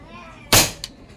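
A single sharp crack from a PCP airgun fired on the first cock, short and fairly loud, followed by a faint echo or pellet impact a moment later.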